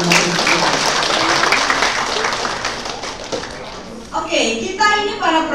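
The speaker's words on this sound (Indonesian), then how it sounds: "Tepuk tangan buat kalian." Audience applause in a university library theatre during a women's poetry performance event, a dense wash of clapping that fades, followed by a speaking voice over it.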